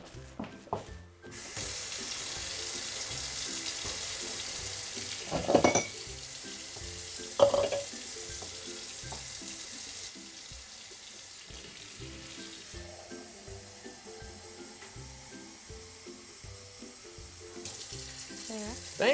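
A kitchen tap runs, with a steady stream of water splashing into the sink for several seconds, broken by a couple of brief clunks before the flow fades to a softer trickle, and no talk over it.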